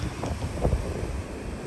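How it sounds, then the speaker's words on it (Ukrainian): Restless ocean surf and wind buffeting a beach, a steady broadband rumble with a couple of brief swells of louder wash, close and continuous with no voices. "Такий сьогодні неспокійний океан."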